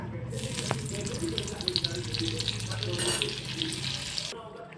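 Butter melts into two tablespoons of hot oil in a kadai for Mumbai-style pav bhaji, giving a soft, continuous sizzle with faint crackles and clinks, fairly quiet and close.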